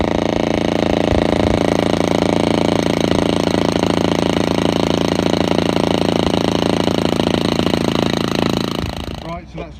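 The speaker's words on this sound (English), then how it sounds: "I've just got to vibrate it to get any air bubbles out. I'm using a SDS drill just on hammer mode." An SDS drill on hammer mode vibrates freshly poured concrete for a sink, a loud, steady, rapid hammering drone that runs almost the whole time before winding down and stopping near the end.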